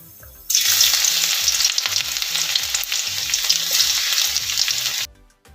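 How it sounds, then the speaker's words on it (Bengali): Whole cumin and garlic hit hot mustard oil for a dhaba-style egg tadka, bursting into a loud, steady, close sizzle with crackles that runs for about four and a half seconds, then cuts off. "তেলটা গরম হয়ে গেছে এবার আমি জিরেটা দিয়ে দিচ্ছি গোটা জিরে এরপর দিচ্ছি রসুন"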